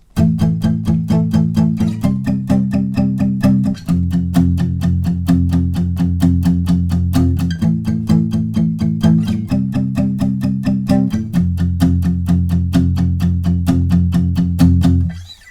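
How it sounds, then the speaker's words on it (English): Palm-muted rhythm electric guitar power chords for a song's second verse chug in a steady, fast, even stream of eighth-note strums, shifting chords every couple of seconds, loud and close with no voices. "altogether, that rhythm guitar will sound like this in the second verse"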